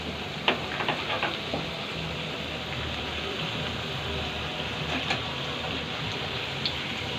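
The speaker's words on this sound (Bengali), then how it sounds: "উল্টে পাল্টে ভালো করে পাপড়িগুলো ভেজে নেব।" Flour crisps (papri) deep-fry one by one in hot oil in a wok, making a soft, steady sizzling hiss with a few faint pops and crackles.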